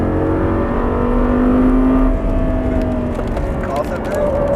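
An Audi R8 engine pulling under throttle on a track, a loud steady drone that rises in pitch as the car accelerates, with a voice talking over it.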